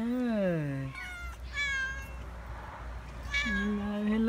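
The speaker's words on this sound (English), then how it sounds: "Yes, meow." A cat meows several times up close, long wavering cries with short pauses between them, and a person's voice comes in softly between the meows.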